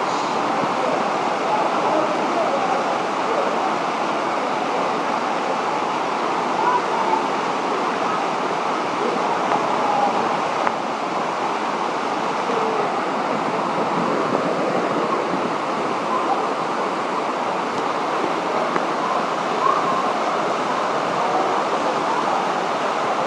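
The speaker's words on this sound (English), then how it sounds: "Under the waterfall," Waterfall at a Hawaiian lagoon: a continuous, even roar of falling water fills the whole stretch, loud and close, with no breaks or changes.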